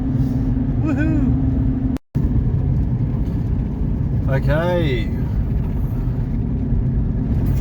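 A 2006 Mitsubishi Pajero with a 3.2 litre common rail diesel cruises on the road, a loud steady engine and road drone inside the cabin. A voice speaks over it, and a brief dropout cuts the sound near the start.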